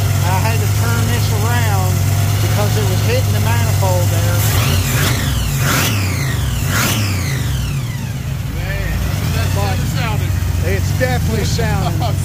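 A blown Chevy 383 small block in a third-generation Camaro IROC Z28 idles with a loud, deep, continuous rumble close by, while people talk over it.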